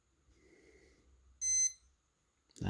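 A Rotary Chronograph G3031 watch in stopwatch mode gives a single sharp, close electronic beep after faint button clicks, followed by a sudden louder thump of handling.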